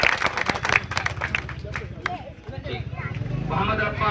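Audience applause at a Republic Day student award ceremony as children receive medals; scattered claps ring out over steady crowd chatter and a speaking voice, loudest in the opening seconds.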